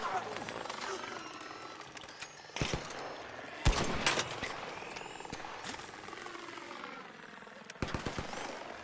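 Gunfire from a weapon in a video game raid, with scattered sharp shots and short bursts over a busy game-sound background while a player talks throughout.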